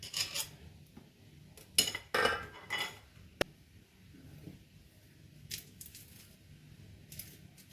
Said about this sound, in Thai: เราก็ใส่ทุกอย่างลงไปให้หมดเลยนะคะ รวมถึงเกลือและน้ำตาลด้วย แล้วก็ลงไปทำทีเดียว ลงไปคนทีเดียวเลย